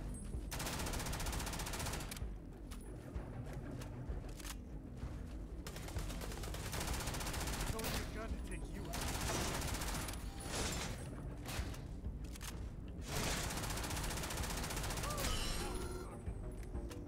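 Shotgun fire in Starfield booms in repeated loud blasts over a long firefight, coming in dense clusters with short pauses between, as a voice occasionally speaks underneath.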